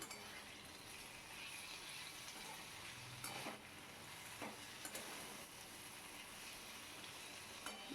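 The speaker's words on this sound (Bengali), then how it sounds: "এইটাকে দিয়ে হালকা হাতে সুন্দর করে নাড়াচাড়া করে নেবো একটু কষিয়ে নেবো" Coriander-cumin spice powder frying in a pan for an ash gourd curry, a quiet, even sizzle with a few soft stirring scrapes.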